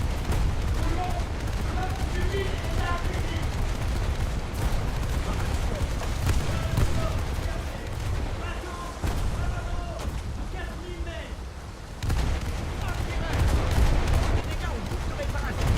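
Rapid, sustained 40 mm anti-aircraft guns pounding in a naval game off the French coast, a dense continuous barrage with brief lulls and someone talking over it.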